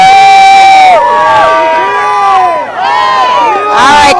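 Bundled-up Wheeling Park high school football fans in the stands shout a loud group cheer, several young voices yelling in bursts with brief pauses, close and boisterous at a cold 2007 game against Steubenville Big Red.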